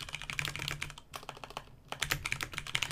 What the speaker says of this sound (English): So you could just type something in here.